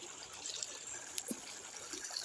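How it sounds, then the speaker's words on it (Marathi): River water flows and trickles faintly near a Ganpati immersion spot, a quiet steady babble with a few small splashes, no clear talk. "या नदीमधून इथे जातं पाणी."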